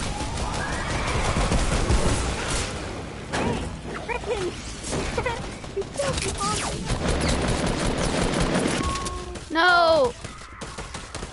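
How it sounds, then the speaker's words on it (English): Gunfire in an online video game crackles in scattered volleys and bursts under excited talking and game sounds, with a sharp shout partway through. "I hear gunshots, but I don't know where are they."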